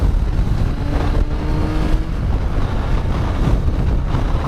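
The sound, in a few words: Yamaha FJ 1200 motorcycle with sidecar riding, engine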